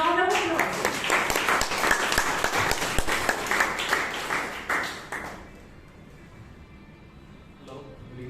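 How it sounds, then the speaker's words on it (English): A Toastmasters meeting audience in Bangalore breaks into a dense round of clapping that carries for about five seconds, then fades to quiet room tone with a few stray claps near the end. "Can we have a round of applause?"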